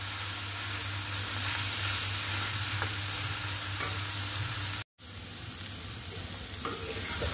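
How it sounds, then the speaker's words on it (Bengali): Bottle gourd greens with pumpkin bori fry in a pan, giving a steady loud sizzle with stirring scrapes, briefly cut off partway before the sizzling resumes. "এই দেখুন, আমি এইভাবে ভাজা ভাজা করে নিয়েছি।"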